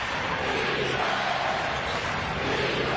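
A packed basketball arena crowd roars during a 2002 Boston Celtics versus Philadelphia 76ers playoff game, a steady, dense wall of cheering that holds at full volume throughout.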